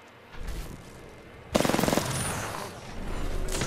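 Gunfire from Apex Legends, with one burst of rapid automatic shots followed by fainter scattered fire, close and sharp.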